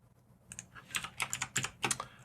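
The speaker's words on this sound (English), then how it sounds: "Alt, Shift, and A on your keyboard will add" Fingers tap out a keyboard shortcut on a computer keyboard: a handful of crisp, close key clicks in a quick irregular cluster over a quiet room hum, with no voice.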